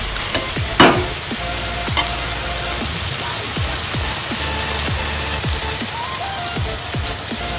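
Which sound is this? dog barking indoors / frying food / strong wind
frying food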